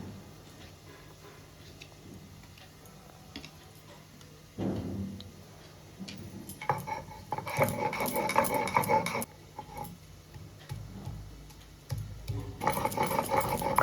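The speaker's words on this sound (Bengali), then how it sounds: "এইবার আমরা শিলনোড়ায় টমেটোটাকে বেটে নিচ্ছি।" Tomato is ground by hand on a traditional shil-nora grinding stone, heard as rhythmic rubbing and scraping strokes that start soft and grow louder, in repeated bursts with short pauses between them, close by and with no talk.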